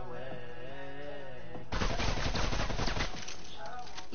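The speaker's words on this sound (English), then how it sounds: "This machine gun will work." A machine gun fires in a video game as a dense, loud burst of rapid shots lasting about a second and a half, after a tonal musical passage.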